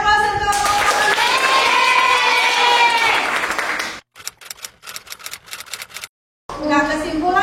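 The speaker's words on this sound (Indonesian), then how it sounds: "beri aplaus untuk kelompok Arazi" Classroom applause for a student group during a Class IX physics telescope experiment lesson at MTsS Jeumala: loud, dense clapping for about four seconds, thinning to scattered claps, then a voice begins speaking.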